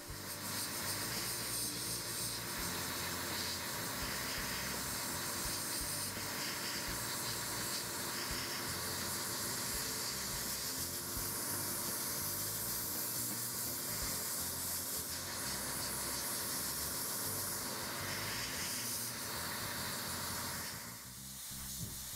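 Black paint is airbrushed onto a masked 1/48 Kitty Hawk AH-1Z Viper scale model helicopter, giving a continuous close airy spray hiss that holds steady for about twenty seconds before easing off at the end.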